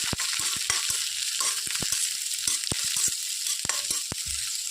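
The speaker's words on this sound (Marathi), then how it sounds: "2-3 मिनटं आपल्याला या भाज्या सतत परतवत राहायच्या आहेत जेणेकरून त्या नरम होतील." Chopped onion and capsicum stir-frying in a pan for soybean chilli, a steady close sizzle of hot oil broken by sharp, irregular scrapes and clicks of a spatula tossing the vegetables.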